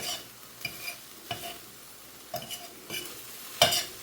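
Spoon scraping and stirring through clumped food frying in a pan, a handful of distinct scrapes at uneven intervals over a faint, steady sizzle, close and without talking.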